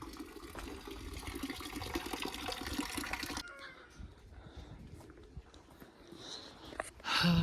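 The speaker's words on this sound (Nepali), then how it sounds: "त्यहाँबाट वाटरफल बनाएर छ हैन यहाँ चाहिँ पानी आइरहेछ" Water pours steadily from an artificial waterfall in a park during Holi. A dense rushing wash fills the first three seconds, then drops away to quieter, distant ambience, with a brief louder sound at the end.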